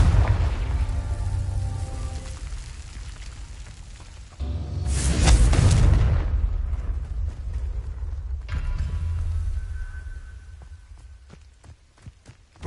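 Confringo fire spell explosions in the video game Hogwarts Legacy: rumbling low booms, with a loud, broad blast near the middle and softer detonations before and after it.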